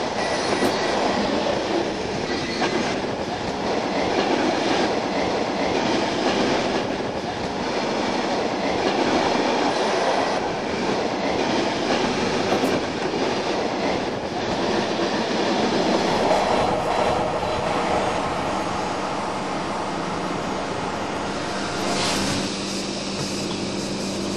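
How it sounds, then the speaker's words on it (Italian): An electric DC locomotive, a class 483 Rax, hauls a convoy of Channel Tunnel shuttle-type freight wagons past at close range, a loud sustained rumble with rhythmic wheel clatter and occasional squeal throughout. "83 Rax in corrente continua con un insolito convoglio di carri dello stesso tipo di quelli degli shuttle sotto il canale della Manica"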